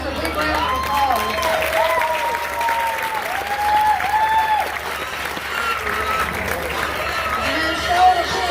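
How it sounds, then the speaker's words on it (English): An audience gives a sustained round of clapping for exhibitors at a youth swine show, dense and even applause throughout, with a voice on a PA system sounding over it. "Let's give all these exhibitors a big round of applause."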